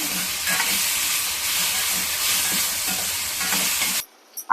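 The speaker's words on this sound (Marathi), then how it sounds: "आपण टॅमॅटो घालूया टमॅटो लालसर परतून घेऊया" Tomatoes frying with onion in a pan make a loud continuous sizzle with stirring scrapes, which cuts off abruptly near the end.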